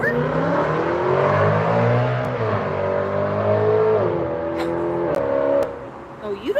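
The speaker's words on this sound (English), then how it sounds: "Oh, you don't like that car." A car drives past a patio, its engine note swelling and then falling away over several seconds, loud and close, followed by a few faint clicks.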